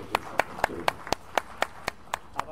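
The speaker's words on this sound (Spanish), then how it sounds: "Un aplauso para él." A small gathering at a history academy event in Cuba clapping for a priest, about ten distinct, evenly spaced hand claps in a slow steady rhythm, fairly close and clear.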